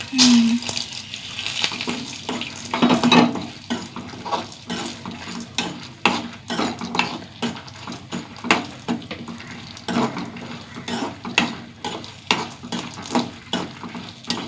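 Oil in a pan with garlic, six or seven dried red chillies and roasted gram being stirred and sautéed, giving a steady light sizzle with repeated scraping strokes of a spoon, close and moderately loud, with no voice.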